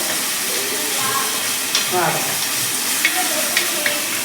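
Onions fry in hot oil as ginger garlic paste is stirred in, giving a steady close sizzle with occasional scraping stir strokes and small clinks, no talking.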